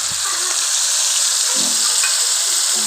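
Poppy seed paste fries in an iron wok with a steady, close, even sizzle and faint occasional stirring scrapes, with no voices.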